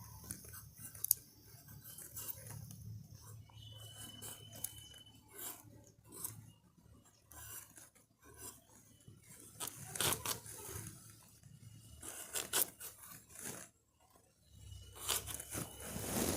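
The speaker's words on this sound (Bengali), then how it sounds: "এবার আলুগুলো পিস পিস করে কেটে নেব।" A knife cuts potatoes into pieces for a rohu fish curry with pointed gourd, giving close, irregular crunches and chops against a board, bunched into bursts separated by quieter gaps, with no voice.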